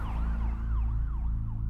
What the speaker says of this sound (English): Five minutes later, an ambulance pulled up at the Fabiano's house